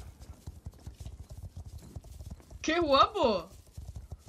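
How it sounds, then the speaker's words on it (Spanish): Horses in the Star Stable game walk with a steady clip-clop of hooves, then one lets out a short neigh partway through while a person speaks. "¡Mira! ¡Todos los caballos!"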